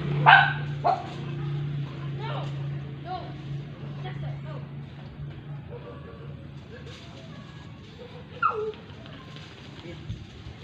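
Pet dogs at a house bark in a few sharp bursts near the start, then give scattered yips and whimpers over a steady low hum, with a louder bark again late on.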